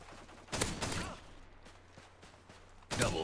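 Striker shotgun fire in Modern Warfare 2 multiplayer gameplay: two loud, heavy blasts, one early and one near the end, with softer game noise and faint clicks between them.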